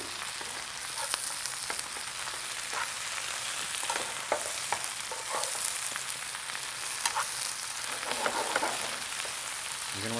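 Spinach wilting down over high heat in a hot pan, releasing its liquid, gives a steady, close sizzling hiss with scattered crackles and the occasional scrape of stirring throughout.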